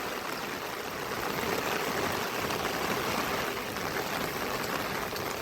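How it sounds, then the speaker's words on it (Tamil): Heavy rain driven by wind pours down in a dense, unbroken hiss, steady and enveloping, with no voices. "நல்லா காற்று மழை."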